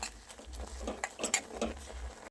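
Grated coconut is stirred into a milky sweet mixture of bottle gourd in a pan, making soft, irregular scraping and squishing strokes with a few light clinks. The sounds are close and fairly quiet.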